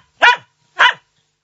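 A small dog gives two sharp, loud barks close by, evenly spaced about half a second apart, each short and alone against silence.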